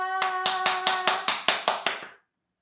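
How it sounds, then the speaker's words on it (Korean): A Sunday school worship congregation claps in a quick, even rhythm of about ten sharp claps over a fading sustained musical tone, then stops abruptly into silence. "우리의 도움 되시고 우리의 보호자 되시는 하나님께 영광의 박수를 올려드리겠습니다."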